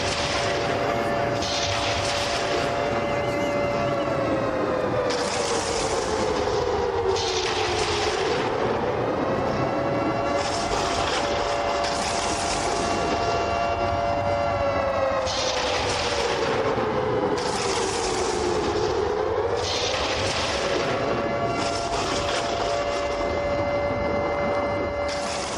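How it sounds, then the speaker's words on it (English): A siren blares at a football game after a touchdown, a loud wailing tone that rises and falls in long, slow sweeps over constant crowd noise throughout. "Let the siren play for the homies."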